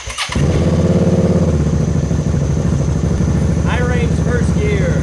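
A homemade mini rock crawler drives in high range with a steady, loud small-engine drone and rattling clatter throughout. The engine starts up abruptly and then keeps running at an even pitch, with faint squeaks toward the end.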